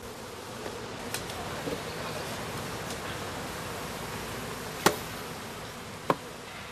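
Honeybees tipped from the bottom board of a magazine hive into an artificial swarm box, a faint steady buzzing hum broken by a few sharp clicks and knocks.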